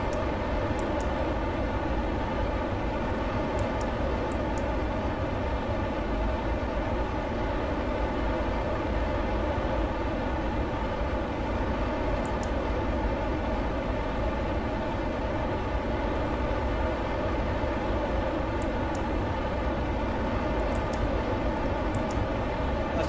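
Spacecraft engine throttling up in a space video game, a steady loud droning roar that holds constant throughout with no voices.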